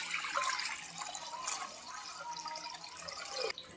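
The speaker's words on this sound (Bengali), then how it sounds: "এবার আমি কড়াইতে জল দিয়ে দেবো।" Water is poured into a kadai, producing a steady, fairly quiet splashing rush that carries on for a few seconds before cutting off.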